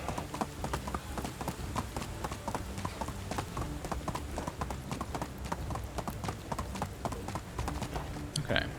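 Steady clip-clop of horse hooves at a brisk riding pace in the medieval survival game Medieval Dynasty, loud and continuous throughout with a short sharper cry near the end.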